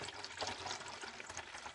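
Kombucha is poured through a metal funnel into a bottle, giving a faint, steady hissing trickle of liquid that runs on without a break for a couple of seconds.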